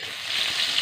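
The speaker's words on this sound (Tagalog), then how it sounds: "Gigisa ko na po yung adobong pusit" Squid adobo with tomatoes sautéing in a hot pan, a steady close frying sizzle with a bright, even hiss throughout.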